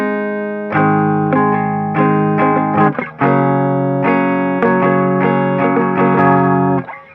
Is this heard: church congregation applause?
no